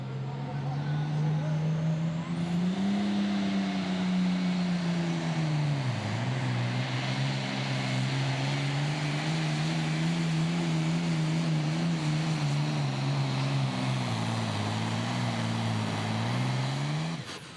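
Farmall pulling tractor, the Never Say Never machine, roars loudly and continuously down a pulling track, its deep engine pitch dipping briefly midway then climbing back, sustained for the full stretch.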